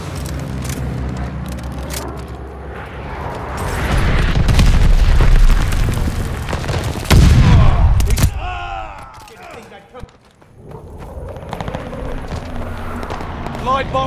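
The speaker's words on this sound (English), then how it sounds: "Teammate called a bombing run." Bombing run explosions in Call of Duty: Vanguard team deathmatch, a loud swelling rumble that builds into heavy booming blasts and then falls away to quieter battlefield noise with scattered shots.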